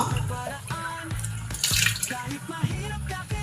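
Water runs steadily from a tap, splashing close by with a continuous hiss and a few brief knocks and clatters.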